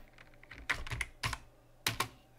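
Code being typed on a computer keyboard, soft irregular key clicks with a few louder clustered strikes, close but quiet, no voices.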